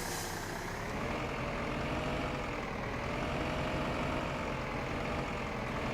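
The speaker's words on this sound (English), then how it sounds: "I'm actually just going to go park this tractor under the shed here" A tractor in Farming Simulator 15 drives toward a shed to park, its heavy engine droning steadily and loudly throughout, with an even, continuous low rumble and no talking.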